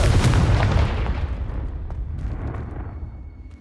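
Hogwarts Legacy's explosive spell goes off in a single loud, close blast that booms sharply at the start and then rumbles away, fading steadily over a few seconds.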